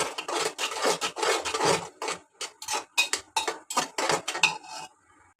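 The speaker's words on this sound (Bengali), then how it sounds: "চটপটির ডালটা আমি কিছুক্ষণ কষাই নেব" A utensil scrapes and rasps against a pan while chatpati lentils are stir-fried with spices, in repeated rhythmic strokes with short pauses between them. The strokes are close and fairly loud, and no voices are heard.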